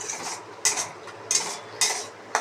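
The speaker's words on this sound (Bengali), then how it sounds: "এখানে পেঁয়াজ দিয়েছি আর আদা রসুনের পেস্ট দিয়ে এটা কষিয়ে নিচ্ছি।" Onions with ginger-garlic paste being sautéed in a pan, with a spatula scraping and stirring in four sharp, evenly spaced strokes over a low, steady background hiss, close by and no talking.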